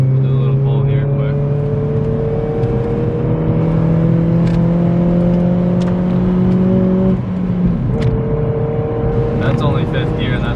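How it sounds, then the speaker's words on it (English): A Honda Civic Si with a high-revving engine accelerating hard through a gear pull on a snowy road, its rising engine note climbing steadily in pitch and loud throughout, with a brief shift near the end. "The car is meant to go fast because it's a high rev motor, but we'll do a little pull here quick."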